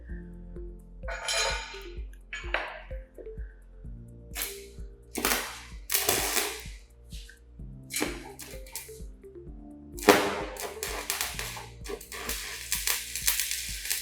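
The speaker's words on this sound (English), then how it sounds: "So, this is like the tack welding on the bottom side is being done." Shielded metal arc tack welding on steel, the bottom side being tacked: irregular crackling bursts and sharp pops come in uneven clusters, fairly close, with a low steady hum underneath and no talk.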